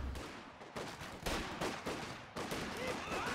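Mortar blasts and gunfire in a Company of Heroes 2 2v2 multiplayer battle: dense, loud, overlapping bursts of shots and explosions that run without a break, with sharper impacts near 0.8, 1.3 and 2.4 seconds.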